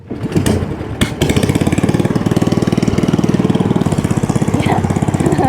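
An old fishing boat's engine runs steadily near a remote fishing village in Sihanouk Province, Cambodia, with a loud, close, rapid chugging throb after a couple of brief knocks at the start.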